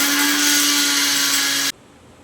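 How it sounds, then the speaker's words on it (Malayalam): A mixer grinder whirs loud and steady for under two seconds, pulverising roasted garam masala of cinnamon, cloves and cardamom, then cuts off abruptly into near silence. "പട്ട ഗ്രാമ്പു ഏലക്ക അതിലേക്കുള്ള എല്ലാ സാധനങ്ങളും ഒന്ന് വറുത്ത് പൊടിച്ച് കൊടുക്കാം"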